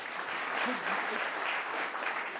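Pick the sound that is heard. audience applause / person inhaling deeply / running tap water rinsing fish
audience applause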